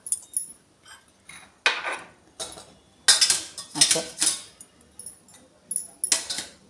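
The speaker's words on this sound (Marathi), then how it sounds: "ह्या वाट्या मी ठेवून देते याच्यात" Small bowls of sabudana papad batter are set one by one into a steamer pot over water, giving a series of close, sharp metal clinks and clatters with short pauses between them.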